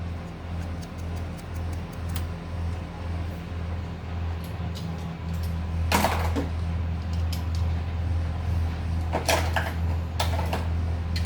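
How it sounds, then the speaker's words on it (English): An electrical connector clip snaps onto a fuel injector on a BMW engine (F25/F30/F32/F34/F84), giving two sharp, close clicks a few seconds apart over a low, steady background hum. "And you'll hear a clip."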